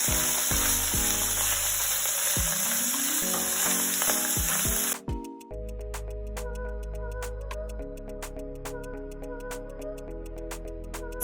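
Ground beef browns in hot oil in a pan with a steady sizzle and frying crackle, broken by a brief drop around the middle before the sizzling continues with scattered pops.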